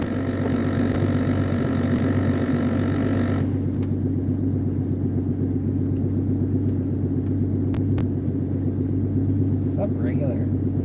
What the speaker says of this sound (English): when I put the fan on high, you hear the blower motor